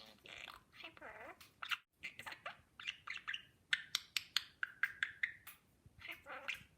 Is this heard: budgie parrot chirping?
yes